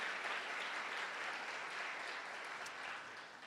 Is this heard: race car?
no